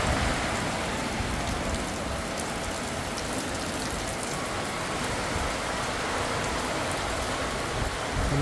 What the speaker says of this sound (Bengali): অনেকদিন পর এভাবে বৃষ্টি হয়েছে